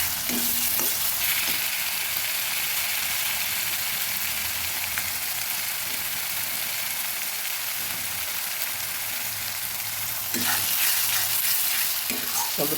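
A paste of two tomatoes and four green chillies fries in a hot pan for a country chicken and potato curry, giving a loud, steady sizzle that runs throughout with brief stirring scrapes near the start and end.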